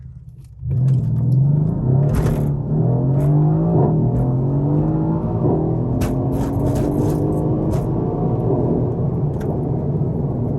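A Mercedes C63s (W205) in Sport Plus race mode launches hard from 0 to 60, its engine roaring up through the gears with rising pitch sweeps and brief shift breaks, loud and close, with no talk over it.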